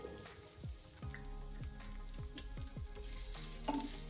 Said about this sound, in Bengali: আদাটাকে একটু ভাজা করে নিচ্ছি